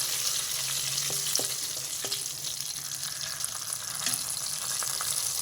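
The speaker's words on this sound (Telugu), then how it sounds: "ఈ చల్లమిరపకాయలు కొంచెం వేగుతున్నాయి" Green chillies frying in a pan give a steady, close, even hiss of sizzling oil, with a few faint clicks and pops scattered through it.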